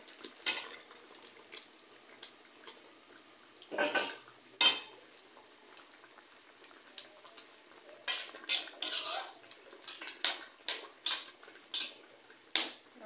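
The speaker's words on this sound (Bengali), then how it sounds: "তরকারির ঝোল ফুটে গেছে, আমি এখন মাছগুলো ঢেলে দিচ্ছি।" Fish pieces for a pointed gourd fish curry tipped into bubbling curry gravy, giving a series of wet splashes and soft clatters against the pot over a low simmering hiss, with several sharper knocks toward the end.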